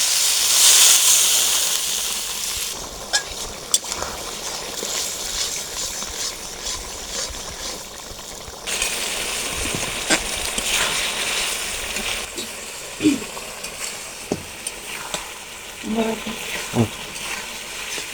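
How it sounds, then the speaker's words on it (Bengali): A spice paste with a little water sautés for mutton curry, giving a soft, continuous sizzle and hiss with occasional stirring scrapes and clinks, steady at moderate level. "সামান্য একটু জল দিয়ে মশলাটা কষে নেব।"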